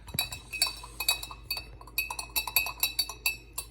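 A spoon stirs a dissolving solution inside a glass container, giving a quick series of bright, close clinks in an irregular rhythm, with a faint low hum underneath and no talking.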